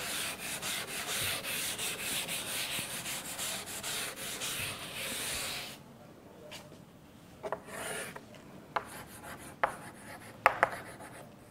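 Chalk or marker rubbing and scratching across a classroom board in continuous strokes for about six seconds, then sparser short taps and scrapes with quieter gaps, close and clear with no talking.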